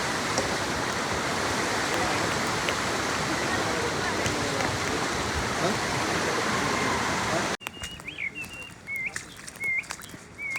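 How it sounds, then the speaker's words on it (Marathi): Dense, steady rushing of a stream and waterfall at Harishchandragad fills most of the clip, then cuts off abruptly, leaving quieter ambience with birds chirping. "इतका वेळ ओढ्याच्या आणि धबधब्याच्या वाद्याने केलेले स्वागत"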